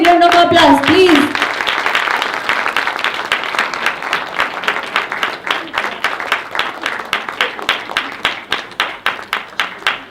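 An audience at a Singapore women's awards ceremony applauds in a long, sustained wave, starting under a voice at the outset and settling into dense, rhythmic clapping that gradually thins.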